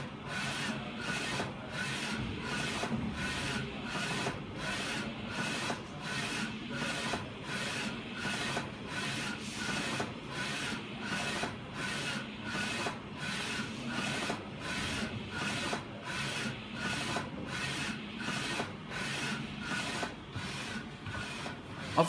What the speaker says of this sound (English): we use the UV light to dry the UV ink. So the UV ink will be dry, immediately after printing.